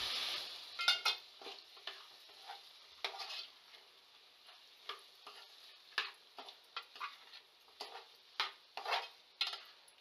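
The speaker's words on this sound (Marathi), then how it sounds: "त्याच्यामध्ये आपण आता बटाटे टाकून घेऊयात. आणि हे जे बटाटे आहेत ते आपल्याला छान फ्राय करून घ्यायचे" Potato pieces frying in spiced oil for a Kolhapuri-style val batata aamti, a soft steady sizzle broken by a string of sharp spoon-scraping and stirring clatters against the pot, close by with no talking.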